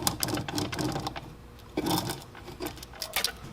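A Honda XL185s engine with bad bearings is turned over by hand, giving faint irregular mechanical clicks, rattles and grinding knocks in uneven bursts at close range.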